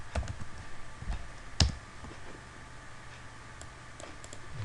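Commands are typed on a computer keyboard, producing sparse, quiet keystroke clicks at an uneven pace, one slightly louder tap standing out, with no one speaking.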